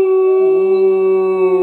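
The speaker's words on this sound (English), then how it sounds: "One of them's gonna start howling." A dog gives one long, sustained howl, loud and close, holding a steady pitch with a slight lower-voiced second tone joining partway through.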